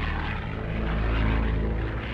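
Propeller-driven Spitfire fighter engine in flight, a continuous loud droning roar with a deep throbbing rumble, sustained without a break.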